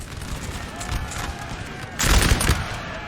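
Artillery is charged by cavalry in a Napoleon Total War battle, with rattling musket and gunfire volleys, then a louder burst of shots about two thirds through, under faint background din.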